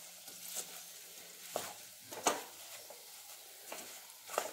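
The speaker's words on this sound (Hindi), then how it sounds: "गैस को बंद कर देंगे और एक बार इसको अच्छे से मिक्स कर लेंगे।" Crispy baby potatoes being stirred in a pan after the gas is switched off, giving soft intermittent scraping and sizzling taps with a faint continuous crackle, quiet and close.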